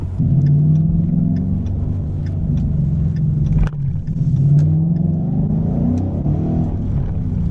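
A 2015 Ford Mustang accelerates on a wet road, its engine rumbling loud and steady with a brief dip partway through as the tires spin, then pulling strongly again.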